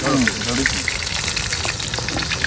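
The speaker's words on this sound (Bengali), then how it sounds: "আমার এই তো মাছ ভাজা ফেরা লাল লাল হয়ে গেছে এক পাশ" Fish fries in a pan with a steady, close crackling sizzle, while a voice speaks briefly over the frying near the start.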